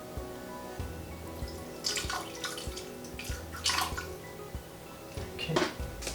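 Water being poured into a blender holding raw cashews, a soft liquid trickle with small splashy bursts that swell and fade several times, fairly quiet and close, with no talking over it.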